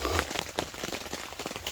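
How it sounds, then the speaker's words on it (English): Heavy rain drumming steadily on the canvas of a large tipi tent at a mountain campsite, a dense continuous patter of drops with scattered louder taps, close and even throughout. "But it's still raining."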